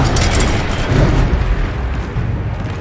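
A Confringo fire spell explodes in the Hogwarts Legacy video game, a loud, dense blast that roars steadily and fills the whole short moment.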